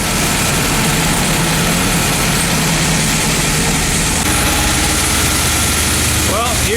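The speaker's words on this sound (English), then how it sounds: "here's the Twin Turbo Windsor" A twin-turbo Windsor V8 fitted in a Ford Flex idles steadily and loudly, a constant low rumble with a faint higher whine, running alone throughout.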